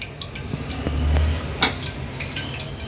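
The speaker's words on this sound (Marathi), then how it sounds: "एक एक करून असेच वडे सर्व मी फ्राय करून घेते." Chicken keema vadas deep-fry in oil with a low, steady sizzle, and scattered light clicks and taps from a utensil sit on top, with one sharper knock near the middle.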